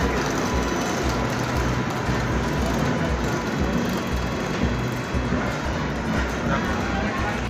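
Busy railway platform ambience at Kharagpur Junction with low rumbling of trains and machinery, a constant dense roar with indistinct chatter in the background.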